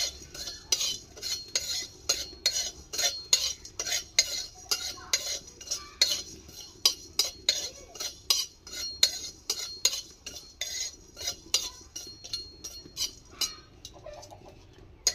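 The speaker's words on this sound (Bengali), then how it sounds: "এটা ভাজা হোক মশলাটা।" Whole spice mix dry-roasting in a pan while being stirred, giving close, steady rhythmic scrapes and clinks of a utensil against the metal with no talking.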